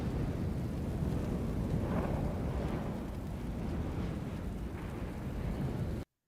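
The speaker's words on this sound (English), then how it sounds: "There's this house fire sound." A house fire from the Strata sound library gives off a dense, continuous roar and rumble with crackling textures and a few swelling surges. It stays loud throughout, has no talk, and cuts to silence at the end.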